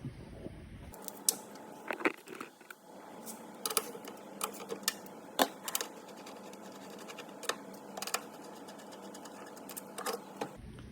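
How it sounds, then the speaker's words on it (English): Bolts being undone on a VW Polo tailgate lock, a steady run of quick ratchet clicks and small metallic ticks, close up with no talking. "what I'm going to do is just undo them 2 bolts and get the lock out"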